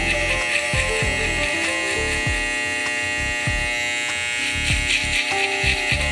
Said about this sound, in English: I'm going to use this T-liner right here to make my first guideline